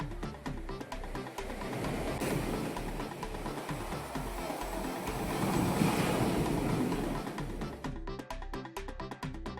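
Rough sea surf crashes and churns on an eroding shoreline, a loud continuous roar of breaking waves that swells in the middle before easing, with wind buffeting the microphone.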